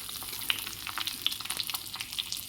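Pointed gourd pieces tossed into a pan of fried potatoes crackle with a steady, moderate sizzle and light stirring clicks, close by and without voices.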